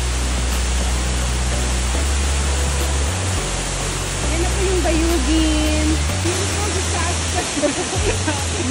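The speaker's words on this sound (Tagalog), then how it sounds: "Guys, we're here at the Bayugin Falls!" Waterfall at Bayugin Falls in Bulusan, Sorsogon, a dense continuous rush of falling water, loud and steady, with low rumbling and a voice faintly heard through it.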